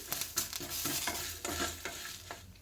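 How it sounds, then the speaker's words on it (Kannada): A piece of cinnamon and a few cloves fry quietly in a pan, a soft sizzle broken by short scraping stir strokes close by. "ಒಂದು ಇಂಚು ಚಕ್ಕೆ ಮತ್ತು ಒಂದು ನಾಲ್ಕು ಲವಂಗನ ಹಾಕೊಳ್ತಾ ಇದ್ದೀನಿ"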